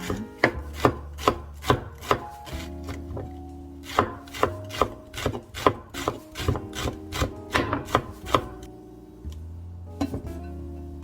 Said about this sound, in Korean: 먼저 파를 잘게 썰어줍니다